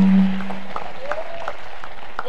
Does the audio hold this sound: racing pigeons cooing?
no